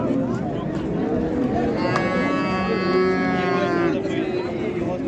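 Cattle moo at a busy livestock bazaar in Karshi where dairy cows and young bulls are traded, a long drawn-out moo rising over steady crowd chatter and voices nearby.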